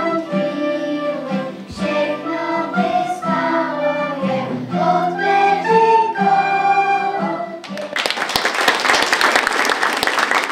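Applause at a Christmas cultural programme with songs and poems, breaking out loudly near the end after a stretch of sung carol music with accompaniment.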